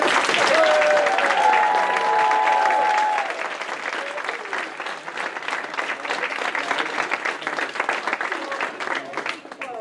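Audience at an intern pinning ceremony breaks into a long, steady round of clapping, loud at first and easing slightly, while a voice briefly speaks over the start.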